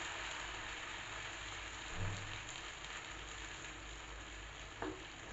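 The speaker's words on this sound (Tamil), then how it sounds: "இப்போது கல் நல்லா ஹீட் ஆகிடுச்சு. இதில் தோசைக்கு வார்த்துக்கலாம்." Steady close sizzle and hiss of drumstick-leaf adai dosa batter on a hot griddle, an even rain-like crackle throughout with a couple of faint taps.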